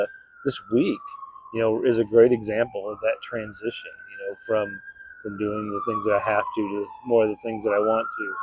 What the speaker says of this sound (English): if you can hear the siren in the background